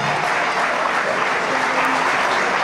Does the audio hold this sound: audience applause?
yes